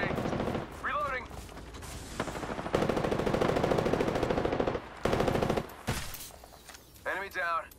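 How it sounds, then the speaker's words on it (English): Rapid automatic gunfire rattles in sustained bursts during an Apex Legends match, mixed with game sound effects and a character's voice lines. "Shots fired, and they're hitting me."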